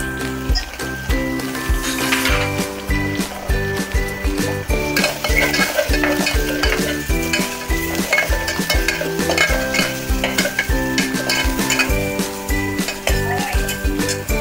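Ginger-garlic paste frying in a pan with onion and curry leaves, a steady sizzle under repeated rhythmic scraping and stirring of a utensil against the pan, close and fairly loud.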